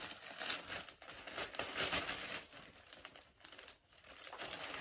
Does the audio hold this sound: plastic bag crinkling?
yes